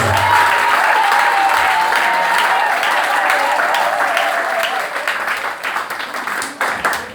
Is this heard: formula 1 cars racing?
no